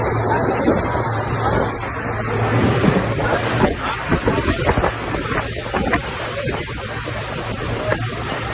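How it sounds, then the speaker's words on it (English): Open boat riding through rough sea in rain near Corcovado National Park, Costa Rica: steady wind buffeting the microphone over an engine drone, with surging splashes and thuds as the hull meets big waves, loud and continuous. "The waves are pretty big."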